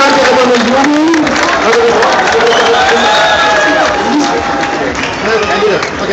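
A large outdoor rally crowd at a Blockupy protest in Frankfurt cheers and whistles loudly and continuously for Naomi Klein, a dense roar with rising shouts and whistles throughout.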